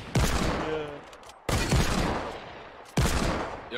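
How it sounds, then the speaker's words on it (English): Three loud, sharp Desert Eagle pistol shots from Fortnite, evenly spaced about a second and a half apart, each with a long decaying tail and faint game sounds between them. "Yo, I hit him three times with a deagle."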